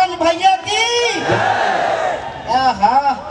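At a live Bhojpuri music performance, a man on a microphone leads a loud call and a large crowd roars back with a shouted chant, with voices rising and falling in waves.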